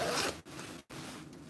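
A zipper on a coat is pulled quickly, giving a loud, close, rasping zip broken by two brief pauses.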